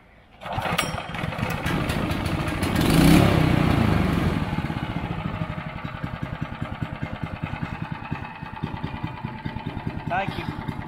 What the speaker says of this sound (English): Let's see if it's gonna crank first time.